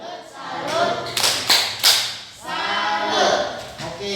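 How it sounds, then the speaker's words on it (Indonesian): A classroom of students gives a rhythmic salute clap for a group, sharp hand claps landing in short bursts, with voices chanting along in between. "Kita tepuk salut untuk kelompok 2."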